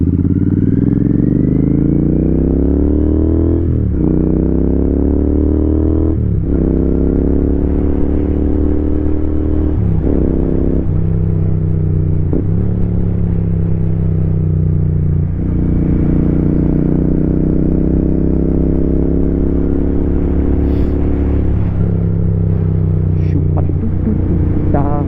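A Royal Enfield motorcycle engine drones steadily while riding, loud and close, its pitch climbing and then dropping with each gear change over roughly two dozen seconds.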